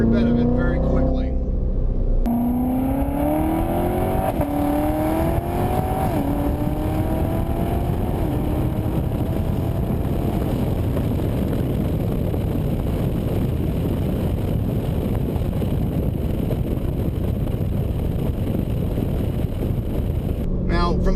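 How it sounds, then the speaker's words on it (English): A 2019 Corvette Z06 with 650 lb-ft of torque accelerates hard from inside the cabin, the engine note climbing through rising gear sweeps into a loud sustained roar with road and wind noise. "all you have to do is put your foot down and you feel every bit of it very quickly"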